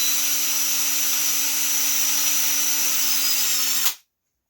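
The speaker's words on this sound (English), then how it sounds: "and drill the hole, the starter hole." Power drill spinning at high RPM while boring a starter hole in wood, a loud continuous whine held steady for about four seconds before cutting off abruptly into silence.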